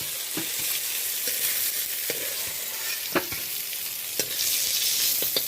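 Bhola fish sizzle loudly in hot oil in a pan, steady and close, while a utensil stirs and turns them with scattered scraping clicks. Nobody speaks.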